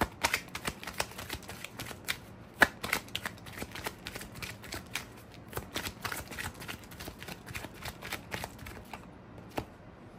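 Tarot cards are shuffled and drawn in a rapid, uneven run of crisp, close card snaps and riffles. The steady clicking carries on throughout with no talk.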